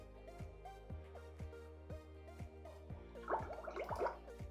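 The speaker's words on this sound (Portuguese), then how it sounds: "Então tem barulho de bolhas," A bubbling effect from iMovie's built-in sound library plays as a steady rhythmic series of low, evenly spaced glugs, with a busier cluster of fizzy bubbles near the end.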